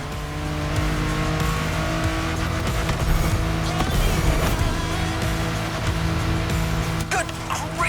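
Racing car in the video game The Crew Motorfest driven flat out downhill, a loud steady engine drone with tire squeal and skidding bursts over eight seconds, under occasional faint talk.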